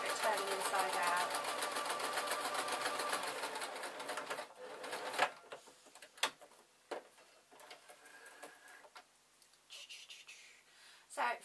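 A sewing machine stitches a summer wrap dress, a rapid, even whirr for about four seconds before it stops, followed by scattered clicks and fabric handling.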